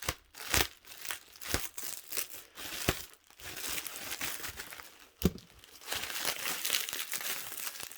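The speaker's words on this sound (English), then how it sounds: "We're just going to cut through some of this tape here." Packing tape on a cardboard box being cut and pulled, giving close crinkling and tearing bursts with sharp rips at irregular intervals against quiet gaps.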